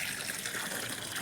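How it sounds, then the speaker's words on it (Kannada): Water gushes steadily from a household tap, a short, continuous close splashing rush with no voices. "ಮನ್ಯಾಗ ನೀರು ಬಂದ್ರಿ."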